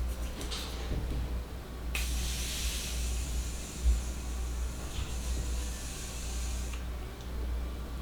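A continuous fine spray of Morphe Mattifying Continuous Setting Spray hisses for about five seconds from a nearby aerosol bottle, steady and airy, over a low background hum.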